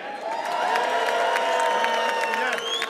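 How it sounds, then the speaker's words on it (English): A rally crowd in London welcomes a speaker with cheering, whoops and clapping, a loud sustained roar of voices with sharp individual shouts rising above it. "give a big round of applause and make some noise"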